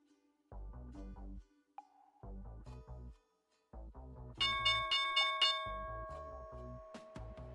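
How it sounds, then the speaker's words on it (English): The stock market opening bell rings at the start of a trading session, with steady rhythmic pulses giving way to a sustained, bright ringing tone that carries on for several seconds, loud and without talk. "here's the bell"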